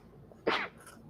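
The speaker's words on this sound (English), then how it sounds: "I'm about to sneeze" A single short sneeze from a person, quick and fairly close, standing out briefly against a quiet background.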